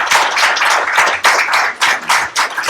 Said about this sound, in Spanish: les agradecemos muchísimo, los aplaudimos